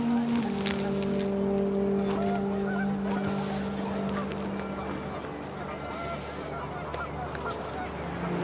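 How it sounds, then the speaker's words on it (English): Panicked geese honk repeatedly in the What Remains of Edith Finch video game, set outdoors on a windy day, with a steady low drone and rushing wind filling the background. A voice may be speaking under the calls. "panicked geese appeared and quickly went"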